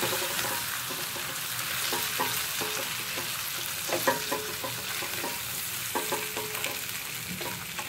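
Steak fillet frying in butter in a pan, a steady close sizzle with scattered crackles and pops and occasional clinks of a utensil, no voices.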